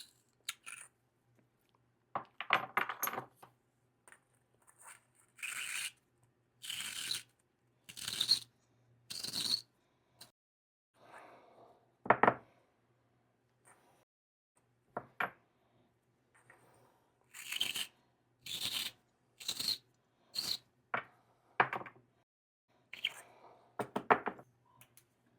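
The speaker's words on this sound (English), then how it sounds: "let's go ahead and ream this bowl" A Savinelli De Luxe Milano briar pipe bowl is reamed: close, dry scraping strokes come in short bursts and clusters, separated by quiet gaps.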